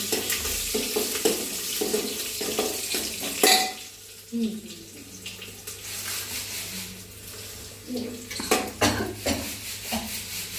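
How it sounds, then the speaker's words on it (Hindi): Hot oil sizzles sharply in a pan as tempering for kadhi hits it, with clinking utensils and light stirring, then a softer ongoing fry. "तो भैया छौंक दिए हमने कड़ी"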